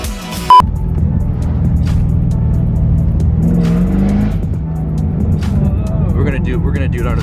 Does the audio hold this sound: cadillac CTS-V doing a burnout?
yes